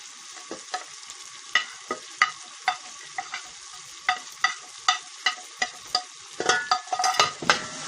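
Spices with red chilli frying in a pan for chana pulao, stirred with a spoon, giving a run of sharp, regular scraping clicks over a faint sizzle, busier and denser near the end.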